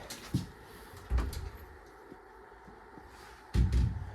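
Three separate knocks and clunks sound as the door of an old train cabin is worked open with a key, sharp close thuds with quiet gaps between them and no talking.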